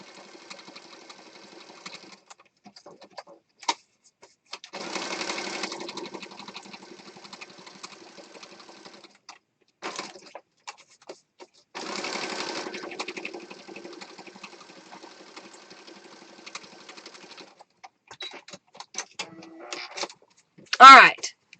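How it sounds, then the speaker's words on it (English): A sewing machine stitches down a mixed media piece in bursts of whirring, several separate runs of steady stitching, close up, with quiet handling noises and talk between the runs. "Alright, so we're sewing this down."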